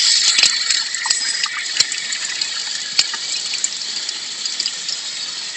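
Tap water running steadily over bananas being scraped with a knife in a kitchen, a continuous close gush with a few sharp knocks and scrapes, no talk.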